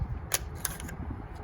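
Scissors snip through a cardboard toilet roll for a rainbow fish craft, two or three crisp close cuts over a low background hum, no talking.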